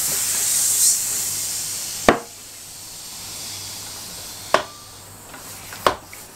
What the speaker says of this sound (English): I do have this tubeless specific pump though, so let's see if it works.